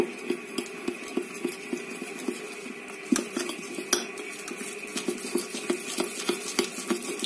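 A whisk or spoon beats an egg yolk and starch face mask mixture in a bowl, giving rapid, rhythmic metallic clinks against the sides, close and fairly quiet, running steadily with a few louder knocks.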